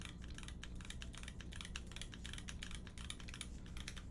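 A VEA mechanical keyboard with GMK Solarized Dark keycaps clacks in a steady stream of quick, crisp keystrokes, recorded close and fairly quiet, with no voices.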